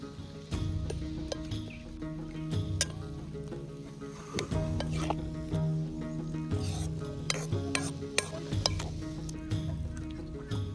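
Soya chunks being stirred into spiced masala in a pan, with soft sizzling and repeated scraping and stirring clinks against the pan, fairly quiet and close.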